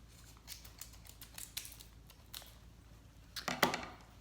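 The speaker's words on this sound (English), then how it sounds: "Let me cut the tag off here." Scissors snip a tag off artificial flowers with a handful of quiet, crisp cuts, ending in a louder final snap and rustle close by.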